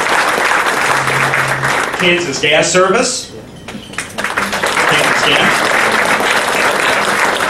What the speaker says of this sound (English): Big round of applause for Watco.